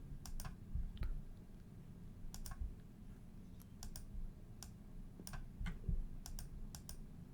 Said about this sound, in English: I'm gonna do that typing on the new microphone